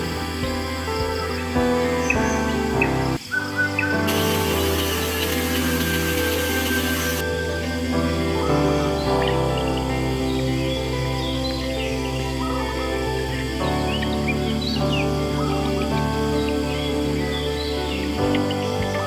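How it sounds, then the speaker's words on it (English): Birds call and chirp in a misty forest at a campsite in Jerantut, Pahang, Malaysia, against a busy, layered background drone, with a burst of hissing noise partway through; no one speaks. "you'll wake up to distant calls of birds and gibbons"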